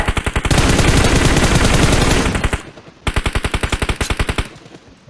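Automatic gunfire in the mobile battle royale game PUBG Mobile: a loud, sustained burst of rapid shots lasting about two seconds, a brief pause, then another rapid burst, with no speech.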